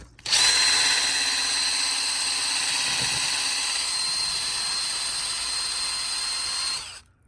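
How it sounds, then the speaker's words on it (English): A power drill spinning a wire brush cleans out the inside of a boat motor housing, whirring steadily at close range for several seconds, a high grinding whine starting abruptly and cutting off at the end. "I've got a wire brush and a drill."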